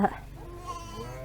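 A short lamb bleat rings out at the start, followed by a softer wavering animal cry, close by with low background noise.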